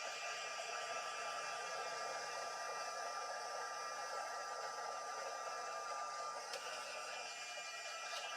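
A heat tool warms a paper card for a dip-dye craft technique, making a soft, steady blowing hiss that runs evenly throughout without a break.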